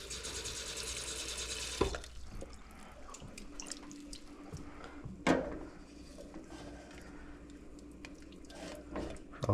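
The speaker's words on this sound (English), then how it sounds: "so I'll add in some water" Water is poured into a hot cooking pan of thickening honey sriracha sauce for turkey meatballs: a short, steady rushing pour at the start, then quieter sizzling with a few sharp clinks from the pan.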